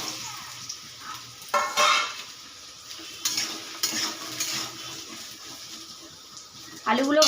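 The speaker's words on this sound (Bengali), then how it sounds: "এবারে আমি আলুগুলো ভেজে নেব।" Potatoes fry in oil in a kadai with a soft hiss, punctuated by louder bursts of sizzling and stirring scrapes at irregular intervals; a brief voice is heard near the end.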